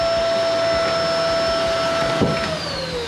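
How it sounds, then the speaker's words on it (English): A vacuum cleaner drones steadily and loudly inside a car during a sound deadener install, its pitch dropping near the end as the suction changes or the motor winds down. "Just giving it its last vacuum"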